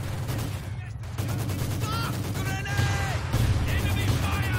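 Battle gunfire in Company of Heroes 2 during the Stalingrad mission, a dense steady barrage of shots and rumbling blasts with no pauses, shouting voices breaking through the din.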